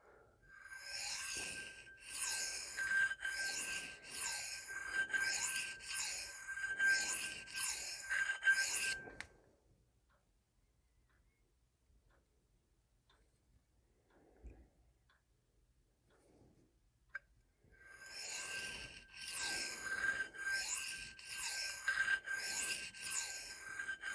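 Repeated rasping strokes of a thinly ground SPK Shark knife in 4V steel drawn across a sharpening stone, a steady rhythmic run of passes, then a long quiet pause before the strokes resume, close and fairly soft.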